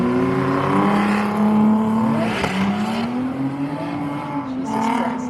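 Drift car lapping at the Lock City Drift event, an engine revving and sliding through a corner with rising and falling pitch, tire noise mixed in, loud and sustained at a middle distance.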